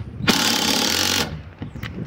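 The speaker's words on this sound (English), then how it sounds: "Let me get the drill." A power drill drives into a finished deck in one loud, close, steady whir lasting about a second, followed by a few faint clicks and knocks.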